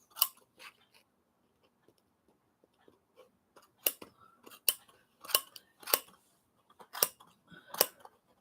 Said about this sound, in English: And I just start snipping.